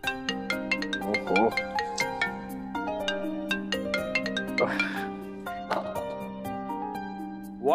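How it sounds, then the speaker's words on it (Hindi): A melodic phone ringtone loops steadily while a call is placed to a doctor in a Hindi TV drama, the bright repeating tones sounding fairly loud and close. "डॉक्टर शिव को फोन करते हैं"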